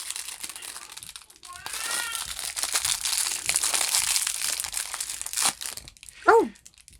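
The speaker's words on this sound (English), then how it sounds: "They're in this crinkly plastic, so I'm going to unwrap them." Erasers are unwrapped from crinkly plastic, making close, busy crackling and rustling that keeps going for several seconds. Brief voices and a child's sound break in near the end.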